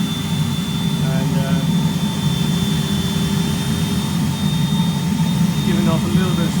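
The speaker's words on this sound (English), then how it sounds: "I've got my injector here with the fan on the back" Oil-burning furnace injector with a fan mounted on the back, set up for melting metal to cast: a steady, loud roaring blast with a constant high whine running throughout, close by and unbroken.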